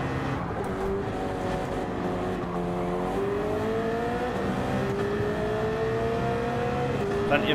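A racing car engine in Gran Turismo 7 holds a steady high drone with gradual pitch climbs and a brief lift, heard under a speaking voice throughout.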